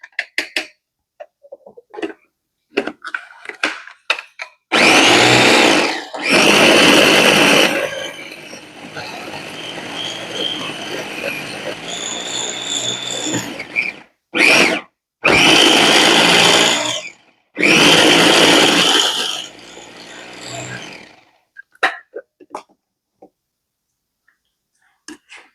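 Food processor chopping and grinding basil leaves into basil salt, running in several loud whirring bursts of a few seconds each, separated by quiet pauses with small clicks and handling noises.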